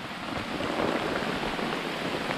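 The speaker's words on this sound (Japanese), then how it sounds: "めちゃくちゃ雨降ってる" Heavy rain pours steadily on a hillside campsite, a dense, constant hiss of drops on ground and gear with no break, close and loud.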